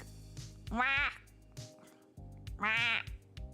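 A voice imitates a duck with two drawn-out nasal quacks separated by a pause, over steady background music, close and loud.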